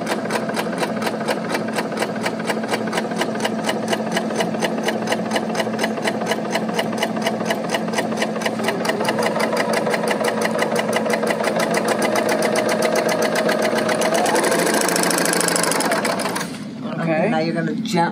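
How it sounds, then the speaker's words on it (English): An L890 serger sewing fabric slowly runs in a steady, rapid mechanical whir up close, with a voice talking over it until the machine stops near the end. "go ahead and sew, and it says slowly sew the fabric"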